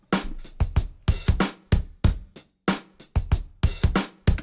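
Dry drum loop from a sample pack, with punchy kicks and crisp snare and hat hits in a tight repeating groove, close and unprocessed with no reverb tail, playing alone.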